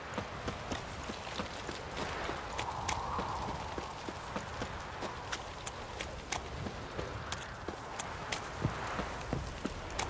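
Horse hooves clip-clop at a steady walking pace in The Witcher 3 over a busy, noisy background, with sharp regular knocks running throughout.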